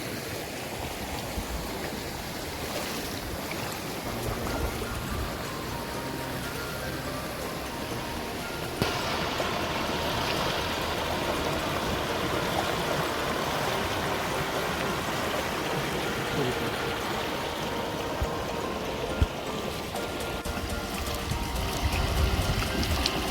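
Heavy monsoon rain in a Konkan village, mixed with flowing stream water, forms a steady, dense wash of sound that stays loud and continuous throughout, with no talking.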